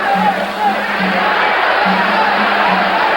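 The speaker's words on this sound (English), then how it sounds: "The crowd exhorting Escalera on." A large crowd at the Alexis Arguello vs Alfredo Escalera boxing match roars and cheers in a loud, continuous wall of noise, with scattered shouts rising above the mass.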